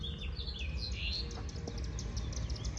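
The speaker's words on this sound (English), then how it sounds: "That bird can get annoying." A wild bird chirps repeatedly in a field recording, bright high tweets and short warbling calls sounding over a constant low rumble of outdoor background noise.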